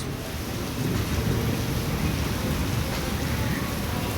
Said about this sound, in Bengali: ঝমঝম ঝমঝম করে বৃষ্টি হচ্ছে